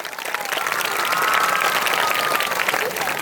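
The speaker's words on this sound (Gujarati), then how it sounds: "એમના માટે જોરદાર તાળીઓ." A village festival crowd applauds students who made the merit list: sustained, fairly loud clapping from many hands, with a faint tonal whistle or voice rising above it midway.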